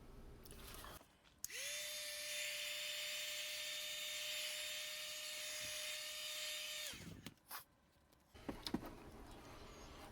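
A heat gun blows steadily while heating EVA foam to shape a mask, a loud even whirring hiss with a constant tone that switches on, runs for several seconds and clicks off, followed by faint handling sounds.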